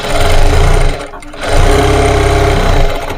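A sewing machine runs a top stitch along a dress, buzzing loudly in two close, steady bursts separated by a brief pause.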